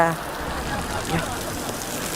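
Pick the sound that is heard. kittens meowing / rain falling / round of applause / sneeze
rain falling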